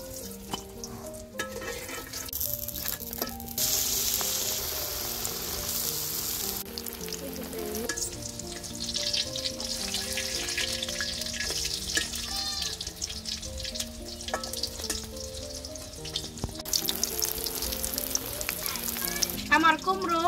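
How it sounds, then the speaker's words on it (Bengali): Slices of ash gourd (chal kumra) sizzle steadily in hot oil, with occasional stirring scrapes and brief bursts of running water from a tap. "আমার কুমড়ো আরেক ব্যাস ভাজা শেষ, এখন নামিয়ে নিব।"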